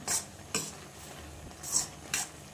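Oats are stirred in a pot of boiling water, four distinct scraping strokes of a spoon against the pot in an uneven rhythm over a quiet bubbling background, close and fairly soft.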